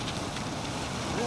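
An 82-pound quarter-scale model boat runs on open water with a steady, loud, broadband engine-and-water roar mixed with outdoor wind buffeting, growing slightly stronger toward the end.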